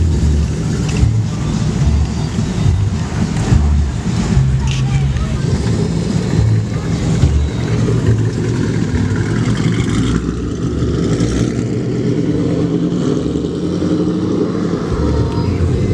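Chevrolet Camaro SS engine held on two-step launch control, a loud, continuous rough rumble with crackling pops throughout, recorded close with people talking over it.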